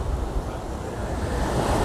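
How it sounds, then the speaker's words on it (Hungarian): Sea waves roar steadily against a rocky shore below a fortress, a continuous broad wash of surf mixed with wind buffeting the microphone, loud and unbroken throughout with no voices. "Igen, hallatszik a tenger zúgása."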